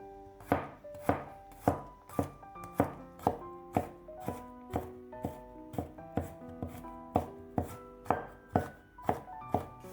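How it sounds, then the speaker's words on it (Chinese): A kitchen knife chopping peeled garlic cloves on a cutting board, about twenty evenly spaced, crisp strikes in a steady rhythm, close and clear with nobody speaking. "几瓣去皮的大蒜也给它切碎"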